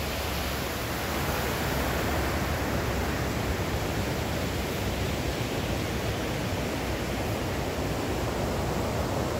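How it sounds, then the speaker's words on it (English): Water of the Nzoia River in a Kenyan village flows in a steady, dense rush, loud and close, with no break or voices for the whole stretch. "Now, this is called the Nzoia River."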